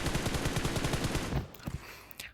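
Rapid automatic gunfire in the mobile shooter PUBG Mobile rattles out as a fast, even burst of shots for over a second, then stops, leaving a few scattered clicks and thuds.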